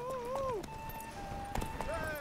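Horse hooves clip-clopping at a gallop in the video game The Witcher 3, quick rhythmic beats running under a continuous voice and tonal game sounds.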